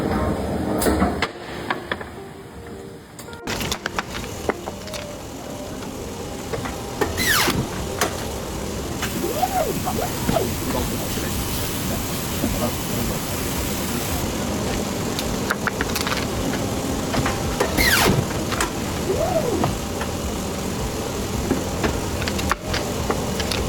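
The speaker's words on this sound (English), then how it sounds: "Aluminum alloy is shaped and strengthened as it passes through a powerful roll forging machine." A powerful roll forging machine shapes aluminum alloy in a factory, giving a continuous mechanical rumble and hiss with occasional clanks, squeals and sliding, whirring sweeps over about twenty seconds, without speech.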